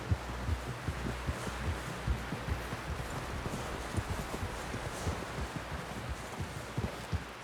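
Horse hooves clip-clop in Red Dead Redemption 2, a steady rhythmic thudding of hoofbeats close by over a low rumbling hum, continuing without talk throughout.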